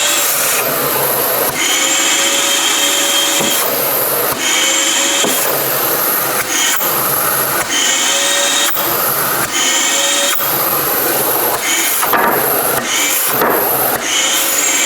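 A Craftsman shop vacuum runs loud and close during a suction test, a steady roaring whine broken by repeated short bursts of sucking and clattering as debris is pulled in.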